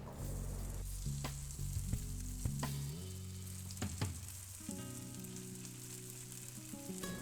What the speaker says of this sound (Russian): Обжаривайте капусту на огне чуть ниже среднего пару минут до подрумянивания.